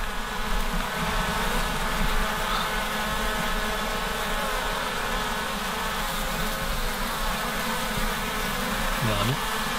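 Honeybees from a struggling hive being rescued buzz in a dense, continuous swarm drone close by, steady throughout, with faint voices underneath.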